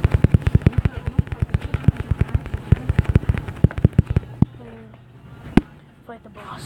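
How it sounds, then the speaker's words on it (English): Bombs go off in the mobile game Best Fiends as a rapid chain of punchy cartoon explosions for about four seconds. One final louder blast follows a short lull, and a voice can be heard at times. "To use our bombs."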